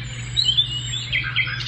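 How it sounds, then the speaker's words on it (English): Recorded birdsong played from a RENPHO white noise sound machine speaker, a short run of high chirps and tweets over a faint steady hum. "birds."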